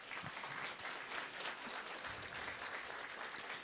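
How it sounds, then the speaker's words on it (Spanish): A church congregation at a Sunday service applauds, an even, continuous patter of many hands that sounds fairly distant and quiet. "por favor, vamos a dar fuertes aplausos."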